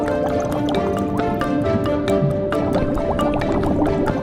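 Oxygen injected into sewage-laden river water at a gravel treatment bed on Taichung's Lyu-Chuan, giving steady, dense bubbling and gurgling with scattered drips, continuous and fairly loud with no voices.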